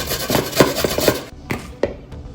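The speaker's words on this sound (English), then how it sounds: "The carrots, so I'm gonna use my shredder grater" Carrots are rubbed against a shredder grater in quick, scraping strokes, a run of rapid rasping passes followed by a few slower, separate scrapes, close and clear.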